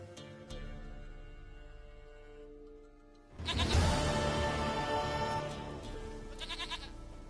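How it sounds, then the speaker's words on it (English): A goat in The Witcher 3 video game gives a loud, wavering bleat that rises sharply partway through and holds for several seconds, with no voices over it. "Goat of mine, dearest, sweetest goat."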